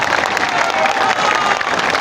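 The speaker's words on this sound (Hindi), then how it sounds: "तो बजाइए जोर से ताली" Audience at a Jan Suraaj party political rally on Gandhi Jayanti claps steadily and loudly, a dense continuous wash of applause with some crowd noise mixed in.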